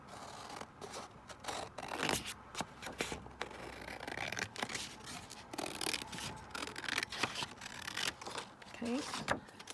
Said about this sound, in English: let's just trim that down